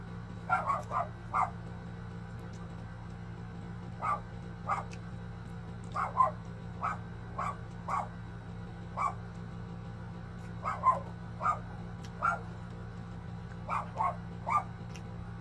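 A dog barks in repeated short bursts at a moderate distance, clustered in irregular groups over a steady low hum, with no talking.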